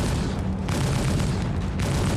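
An Electron Bolt sniper rifle fires in Star Citizen: two sharp booming shots a second apart, each with a dull rumbling tail, loud against a low background drone.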